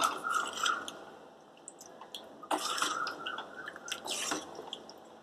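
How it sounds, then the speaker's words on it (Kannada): Cooked avial vegetables are stirred in a pot for a Kerala-style dish, giving soft wet squishing and scraping sounds in short bursts, close and fairly quiet, with no talking. "ಈಗ ಇದನ್ನು ಒಂದ್ಸಲ ಸರಿಯಾಗಿ ಮಿಕ್ಸ್ ಮಾಡ್ಕೊಳ್ಳೋಣ."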